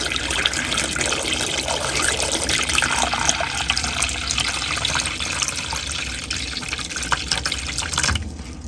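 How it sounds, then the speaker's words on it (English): Water pours steadily down the tube of a composting toilet, a continuous close splashing rush that runs for several seconds before cutting off abruptly near the end. "I'm going to pour some water down there to help flush out whatever it might have loosened up."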